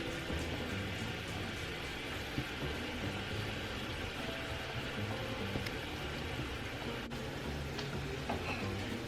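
Honey butter garlic shrimp frying in a pan produce a steady, soft, close sizzle that runs unbroken throughout, with faint occasional crackles and no voices.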